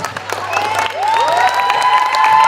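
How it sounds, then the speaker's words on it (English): Crowd applause and cheering swell all around at a stream match, mixed with whoops and a rising whistle-like tone, getting louder toward the end. "Claps all around. I'm sure you can hear that."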